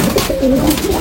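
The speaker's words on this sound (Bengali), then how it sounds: "আমার ঘরে আবলুক পায়রা রয়েছে।" Ablook (mechhi ablook) pigeons cooing indoors in a home loft, a steady run of soft, low, warbling coos that carry on throughout at close range.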